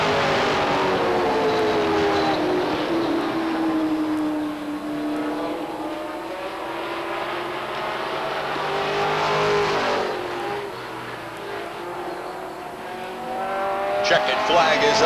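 Late model race cars run the final lap at Beech Ridge Motor Speedway in 1993, engines roaring and rising and falling in pitch as the pack sweeps past, loud and continuous under an announcer's voice.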